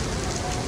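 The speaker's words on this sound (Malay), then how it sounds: "Suasana sekarang ni hujan. Hujan rahmat ilahi, hujan lebat." Heavy rain pours at the KLCC and Suria KLCC area of Kuala Lumpur, Malaysia, a dense, unbroken roar of drops hitting the ground, loud and close throughout.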